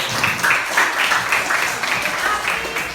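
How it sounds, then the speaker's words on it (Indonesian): A classroom of students claps together in a brief burst of applause, fairly loud and close, with a few voices mixed in among the claps. "Kita tepuk tangan dulu."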